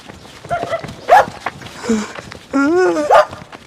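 Excited dog barks and yelps mixed with shouting voices, a few sharp loud bursts over a noisy, chaotic background.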